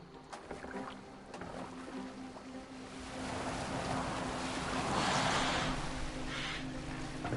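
A boat glides over water in Assassin's Creed Valhalla as a continuous soft wash of splashing and rushing water, growing fuller midway with a faint hum running underneath and no voices.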